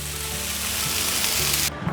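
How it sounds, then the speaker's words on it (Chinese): Vegetables being stir-fried in a hot pan for a vegan home-style pumpkin dish, a steady loud sizzle with light stirring, cutting off sharply near the end. "快速拌炒， 炒至所有味道都融合在一起了"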